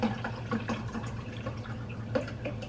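Water pours from a refrigerator water filter pitcher into a container, a close steady gurgling stream with bubbly drips over a low background hum.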